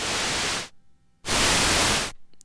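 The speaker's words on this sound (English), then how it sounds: "And they both have white noise." Two bursts of hissing white noise from Nymphes and Juno 106 synthesizers, each under a second long, separated by a brief near-silence, with a faint short tone at the end.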